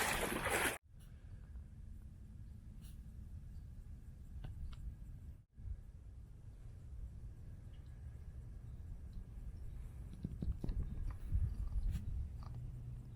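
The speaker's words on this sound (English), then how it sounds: "Little perspective of walking in the water on this portion of the Ocean to Lake Trail." Legs wade through knee-deep water on a Florida trail, a continuous low sloshing and splashing that swells toward the end, broken by two brief dropouts, close and fairly quiet with no talking.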